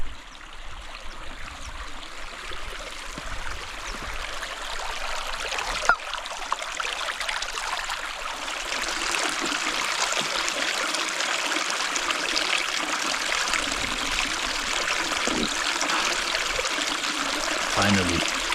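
Water from a clear mountain stream on open, empty high fjell country trickles and rushes steadily, a broad bright wash of running water, close and continuous with no talk over it.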